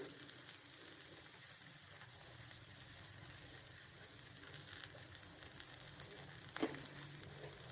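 Onions frying with tamarind and salt in a pan for peanut chutney give a steady, faint sizzle that runs unbroken throughout, with one brief clatter near the end.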